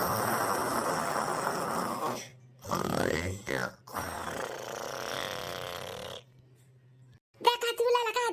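A cartoon character snores loudly through a cold winter night, several rough, drawn-out breaths rising and falling with short pauses between them, then a voice speaks briefly near the end.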